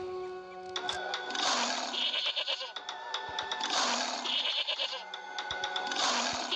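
Goats and sheep bleat in a lion-hunting video game featuring a winged lion: three loud, drawn-out bleats in a steady rhythm, each a long wavering cry, with no talking.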